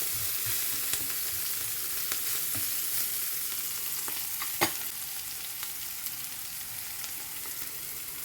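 Garlic frying in a pan for a prawn curry lunch, a steady close sizzle with faint crackles and one sharp pop partway through, no voices.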